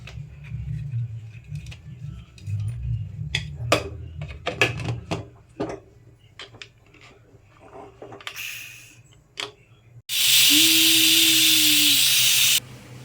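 After a run of clinks and knocks, a loud, high hiss of escaping steam blasts for about two seconds with a whistling tone, then stops abruptly.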